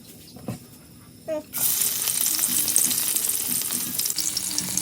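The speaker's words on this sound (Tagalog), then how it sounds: "Ayan, lagyan na natin ng mantika. Para makaluto na." Cooking oil hits a hot, smoking wok, and the close, loud hiss and crackle of sizzling begins suddenly and carries on steadily after a few soft knocks.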